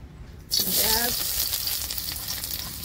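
Oil hits a hot kadai and bursts into a loud, bright sizzle after a brief quiet moment, then settles into a steady, crackling frying hiss.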